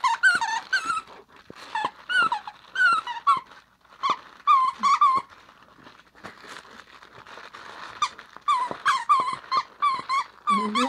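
A squeaky dog toy from a monthly subscription box, with bursts of high, chirping squeaks in quick clusters and crinkly handling noise between them, close and fairly loud.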